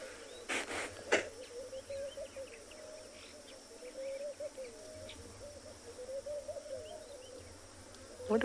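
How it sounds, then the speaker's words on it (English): Insects buzz and drone through a warm South African safari afternoon, a low continuous hum with closer flyby buzzes swelling and fading, while a few birds call faintly in the distance. "Lots and lots of insects."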